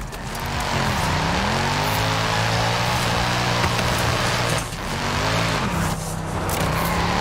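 A Mercedes C63 in Forza Horizon 5 held in a long drift, its engine droning and revving loudly and steadily with tire noise, pitch sweeping up and down for several seconds.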